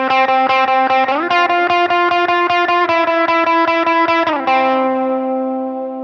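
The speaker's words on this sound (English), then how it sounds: "And alternate picking is just that, just picking down and up, and it could sound like this." Electric guitar through distortion and effects, picked in a steady alternating down-up rhythm, roughly a dozen evenly spaced notes shifting between a few pitches before a final note rings out and fades, loud and alone.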